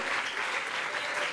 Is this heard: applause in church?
yes